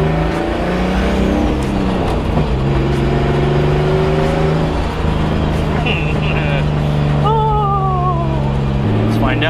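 BMW E46 drift car accelerating on a street, its engine note climbing through several steady rising tones, loud and close for the whole stretch, with a brief squeal of higher pitched sound near the end.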